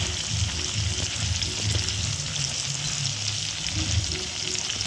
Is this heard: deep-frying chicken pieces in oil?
yes